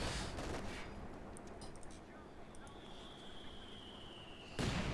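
Heavy barrage from two anti-tank guns in a World War II strategy video game, with dense overlapping blasts and crackling gunfire at the start, a sustained rumbling battle din, then another loud burst at the end.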